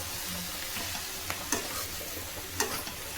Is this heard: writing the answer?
no